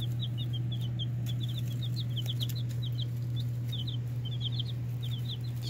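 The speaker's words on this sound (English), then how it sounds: "Little leghorns." Leghorn chicks peep in quick, high, scattered bursts, many small voices overlapping at close range above a steady low electrical hum.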